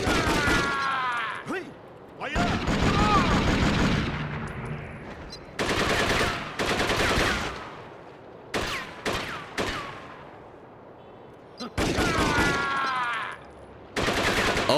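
Gunfire in the Jet Li: Rise To Honor video game: loud bursts of rapid automatic fire come in several blocks separated by short gaps, close and harsh, with shorter single bursts mixed in.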